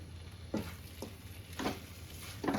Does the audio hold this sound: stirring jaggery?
yes